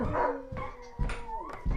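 Several dogs on a farm bark and whimper in quick, uneven bursts, fairly close, with high whiny tones between the barks and no talking.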